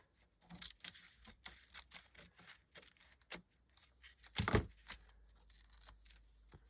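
Scissors cutting across junk mail envelope paper, a series of short, crisp snips and crinkles close up, with one louder tearing burst partway through, quiet overall.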